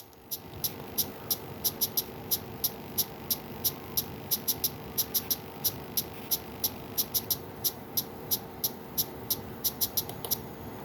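Ambient percussion loop of crisp, bright ticks in an eighth- and sixteenth-note pattern, steady and repeating over a soft low pad-like bed, moderately quiet throughout.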